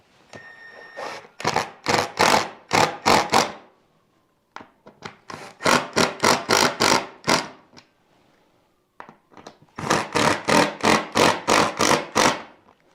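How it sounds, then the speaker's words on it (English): Rapid ratcheting clicks from a cordless drill slipping its clutch on its lowest setting while driving screws, in three bursts separated by brief pauses, close and sharp. "that ratcheting noise you're hearing is because I've got it set on a lowest setting"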